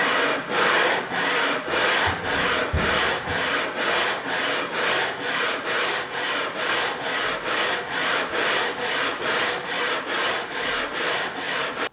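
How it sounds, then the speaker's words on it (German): Hand sanding of a wood surface with abrasive paper, a steady series of loud, even back-and-forth rasping strokes, roughly two per second, close up and continuous with no talking. "Und dann schleift ihr mindestens so fein, wie ihr auch die Fläche geschliffen habt."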